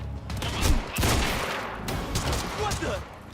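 Carbine rifle fire in the Quantum Break video game, a dense burst of loud shots and booms packed close together, with a voice speaking over part of it.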